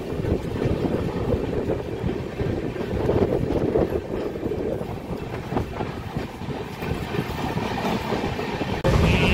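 The Kagaznagar superfast express from Secunderabad moves along the rails with a continuous rumbling, clattering roar. Wind buffets the microphone throughout, and there is a brief sharper rise near the end.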